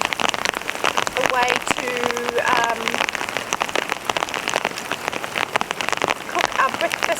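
Steady rain patters on a winter camp in the New Zealand mountains, a dense continuous hiss with close drips throughout, while a person speaks briefly over it.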